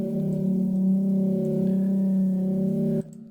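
A sustained synth chord hums with a soft, washy reverb tail, steady for about three seconds before cutting off abruptly into near silence.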